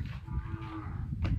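Cattle in a village where residents keep goats and cows, a low drawn-out moo close by over a rumbling farmyard background, alone with no talk.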